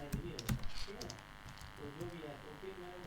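Computer keyboard typing Python code, a light patter of key clicks in short bursts with a faint background hum, heard under a man explaining as he types.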